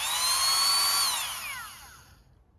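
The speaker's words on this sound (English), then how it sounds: "what I'm doing here is I'm honing out where the bolts go in by a couple millimeters" A power tool honing out the bolt holes for an ignition coil whirs with a high, close whine, then winds down and fades to near silence within about two seconds.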